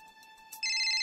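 A mobile phone ringtone starts abruptly, a bright electronic tone sounding close and steady after a brief lead-in.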